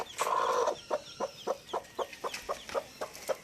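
Hen clucking close by with newly hatched chicks, starting with one longer, louder call and then a steady series of about ten short, evenly spaced clucks at moderate volume.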